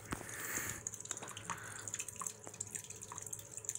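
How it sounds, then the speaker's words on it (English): Water drips and trickles steadily from a leaking water wheel as it drains, a continuous close wet patter with scattered individual drops and no talking. "It's losing water fast."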